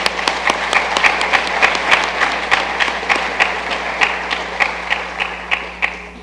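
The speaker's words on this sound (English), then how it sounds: "Can we please applaud for them one more time?" Audience applause at a university convocation, near and fairly loud, with individual sharp claps standing out in a quick, irregular rhythm over the steady clapping of the crowd.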